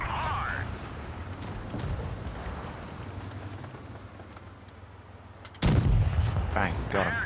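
A tank cannon fires in World of Tanks Blitz, one sudden loud boom late in the clip over ongoing battle noise, with someone speaking around it.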